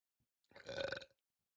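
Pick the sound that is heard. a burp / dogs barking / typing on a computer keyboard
a burp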